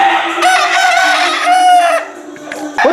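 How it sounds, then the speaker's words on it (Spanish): A fighting rooster crows loudly and close, a long strained call, followed by a second rooster's crow cutting in near the end. "qué preciosura de gallos"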